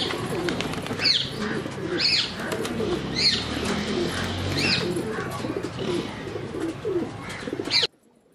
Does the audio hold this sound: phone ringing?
no